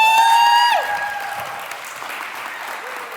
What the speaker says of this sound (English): Sean really deserves a round of applause